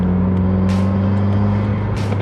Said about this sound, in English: You hear the exhaust, you hear the intake, you hear the blow-off valve going.